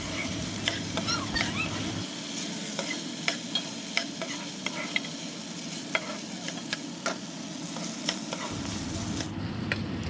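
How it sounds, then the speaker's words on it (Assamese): Soaked rice frying in mustard oil in a wok, a continuous hiss and crackle with frequent scraping strokes of a spatula, close and fairly even throughout, no voices. "এতিয়া ইয়াতে চাউলখিনি অলপ সময় ভাজি ল'ম"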